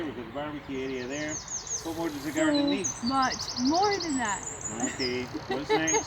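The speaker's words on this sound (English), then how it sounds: "You can already see and hear the beautiful birds singing right now." Birds chirp and warble repeatedly in a community garden while a person talks over them, the calls clear and fairly close.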